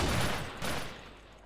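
Gunfire rings out in the survival game MTA DayZ: two loud, sharp bursts in quick succession, fading into a brief echo.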